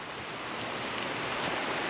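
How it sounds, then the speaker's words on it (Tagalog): A fast-flowing rocky river in Taiwan rushes with a steady, dense broadband roar, constant and close, with no voices over it. "Maragasa dito mga kadudoy, mabato."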